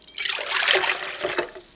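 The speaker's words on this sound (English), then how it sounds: "So the first thing we're going to do is add our water" Water pours steadily into a KitchenAid stand mixer bowl on a kitchen counter for bread dough, a close splashing trickle that swells and then tapers off with no voices.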